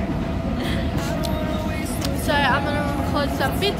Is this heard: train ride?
yes